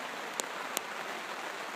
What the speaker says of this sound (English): trying to stay out of the rain